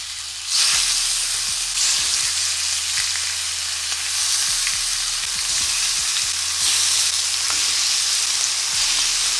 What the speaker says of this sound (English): Just gonna start adding my lamb in there.